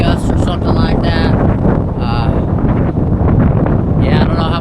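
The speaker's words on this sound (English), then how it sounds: "It's blowing like 25, 30 mile an hour gusts or something like that." Strong, gusty wind buffets the microphone outdoors on a boat during a fishing trip, rumbling loudly and fairly continuously with some faint background voices.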